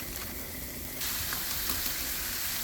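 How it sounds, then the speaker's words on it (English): Ground beef frying in a pan over caramelized onions for stuffed peppers, a steady close sizzle that jumps louder partway through and keeps crackling without any talk. "I'm going to start cooking my beef"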